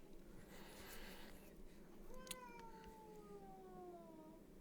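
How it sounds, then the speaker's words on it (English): A cat lets out a single drawn-out, descending angry meow, faint and somewhat distant against a steady background hiss, lasting a couple of seconds. "he just let out a really angry meow there"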